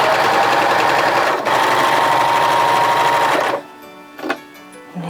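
A sewing machine runs steadily and loudly, stitching a sleeve seam with a one-centimetre allowance on a seven-eighths-sleeve wrap dress, then stops abruptly and leaves only faint handling noises.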